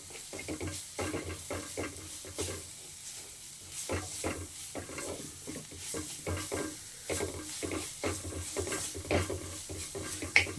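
A spoon stirs coriander and turmeric powder through a lightly sizzling pan, with repeated scraping strokes against the metal over a soft, continuous frying hiss, close and fairly quiet.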